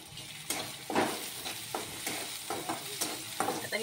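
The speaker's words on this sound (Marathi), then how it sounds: "आता हे सर्व साहित्य आपण चांगलं मिक्स करून घेऊया।" Cauliflower with tomato, turmeric and spices is stirred and fried in a pan, a steady soft sizzle broken by repeated scraping stirs at an irregular rhythm, close and fairly quiet with no talking.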